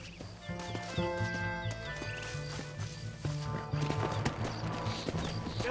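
Horses clip-clopping in the Red Dead Redemption video game, a steady run of hoofbeats with a brief whinny, set against game music and ambient effects, with no talk.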